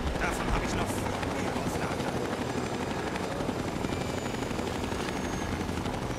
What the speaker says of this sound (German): Habt ihr jetzt den Helikopter kaputt gemacht?